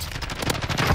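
Rapid automatic gunfire in Call of Duty: Warzone, a dense loud rattle of shots lasting about a second with no voices over it.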